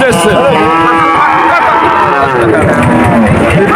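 A cow at a cattle market gives a loud, drawn-out moo close by, surrounded by the steady hubbub of a crowd and people talking.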